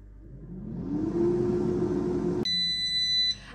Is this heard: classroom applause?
no